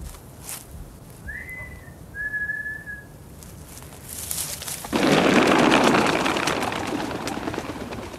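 A person whistles as a signal: two short, clear whistled notes against quiet outdoor background, followed by a louder burst of broadband noise.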